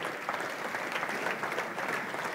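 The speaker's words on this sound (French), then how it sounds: "là, vous applaudissez" A live audience applauds steadily and fairly loudly at a French USAP Champion event, a dense, continuous wash of many hands clapping with no voices over it.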